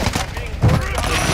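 A brief burst of Call of Duty gunfire thumps out in the middle of a short moment of game action, loud and near.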